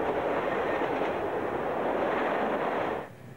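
A passenger train departing a station rolls past with a steady, loud rumble and hiss that holds for a few seconds, then cuts off quickly.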